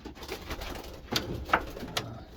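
A slate cock pigeon and a white splash hen in a breeding loft give soft, low coos with a few sharp clicks and shuffles, close by and quiet.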